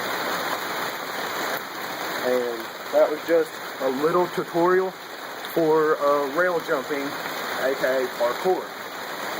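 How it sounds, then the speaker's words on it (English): Steady rain patters outdoors at night as a continuous hiss beneath someone speaking throughout. "Sorry about the rain, I can already apologize for that."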